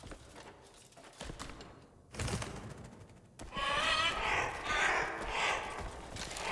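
A grebe in the video game Crimson Desert calls loudly, a harsh rapid chattering burst in the second half following quieter rustling, close and insistent, with no voices.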